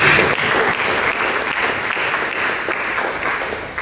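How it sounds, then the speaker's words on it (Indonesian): A church congregation claps together, a thick, steady burst of applause filling the room at close range and holding evenly throughout with no voices standing out. "Berikan tepuk tangan bagi Yesus."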